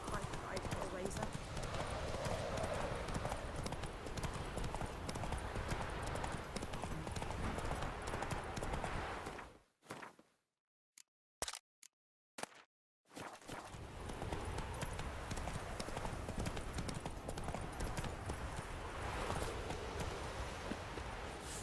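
Horse hooves gallop in Witcher 3: Wild Hunt as a steady, rapid clip-clop under game ambience. The sound cuts to near silence for a few seconds partway through, then resumes, with voices talking over parts.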